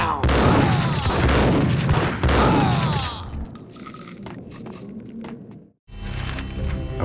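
Gunfire in the Max Payne video game, with loud, dense bursts of shots and booming impacts that ease into a quieter rumble, a brief silence, then more shots.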